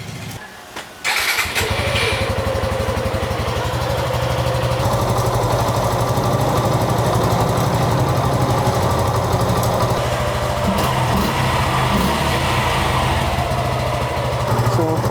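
A motorcycle engine, just refilled after an oil change, starts about a second in and then runs at a loud, steady idle for the rest of the clip, with no talking.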